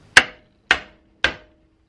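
Three evenly spaced sharp knocks as a green wooden mallet head is hammered onto its handle, each a crisp, close wooden strike with a short decay and silence between.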